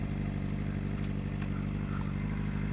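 A Suzuki GSX 750 motorcycle rides through a neighborhood in Brazil, its engine a constant loud, low droning rumble close by with wind noise over it and no clear gear changes.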